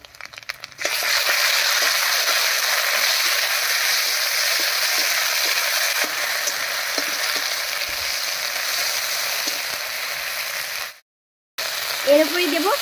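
Ginger and green chilli paste sputters and sizzles in hot oil after fried coconut for a vegetarian ghugni, a loud, close, continuous fry with light stirring crackles, briefly dropping out before a final burst.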